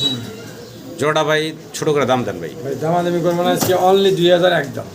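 Pigeons coo in low, rolling bursts, several calls in a row close by, with a person talking over them.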